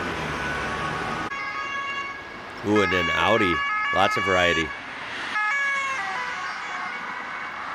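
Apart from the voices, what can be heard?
Austrian emergency vehicle siren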